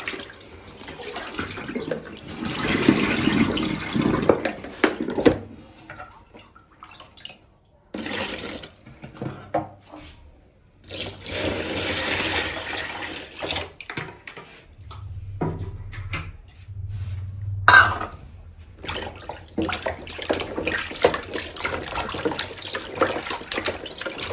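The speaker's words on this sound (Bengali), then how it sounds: "আর একটা ধোয়া দেবো।" Tap water runs and splashes in a sink as freshly cut live koi fish are rinsed again, the flow starting and stopping in bursts with handling clatter between, close and fairly loud with no talk.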